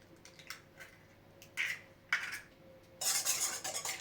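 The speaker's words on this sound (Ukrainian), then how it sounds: "Спочатку я зіб'ю яйця." Eggs are whisked in a bowl with a utensil, giving irregular light clinks and scrapes that build into a louder, rapid beating toward the end. The sound is close and has no talk over it.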